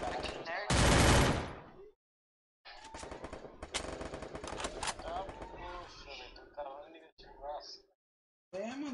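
Gunfire in a mobile shooter game, loud rapid bursts and single shots broken by short silences, with someone talking excitedly over the action.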